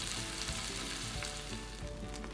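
Chicken pieces frying in a pan for chow mein, a loud steady sizzle with crackling pops, close up and alone.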